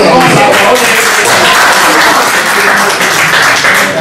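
Audience applause fills the room steadily, a dense wash of clapping at close range with voices mixed in throughout.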